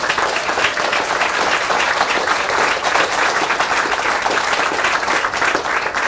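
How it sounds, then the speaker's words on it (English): An audience at a branch library grand opening breaks into steady, dense applause that holds at full strength, many hands clapping together, loud and close. "Let's give him a round of applause."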